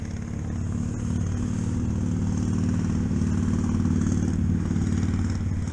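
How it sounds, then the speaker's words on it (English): A Harley-Davidson Sportster motorcycle rolls in with a loud, steady, pulsing V-twin rumble that swells slightly as it draws near, dominating the scene. "Look like Top Box now coming on his Sportster."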